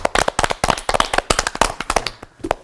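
A church congregation claps during a sermon, producing a quick, uneven burst of sharp, close hand claps that thins out toward the end.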